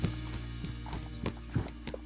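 A horse's hooves clip-clopping at a slow walk, a series of soft irregular thuds over a steady low hum, fairly quiet and close with no talking.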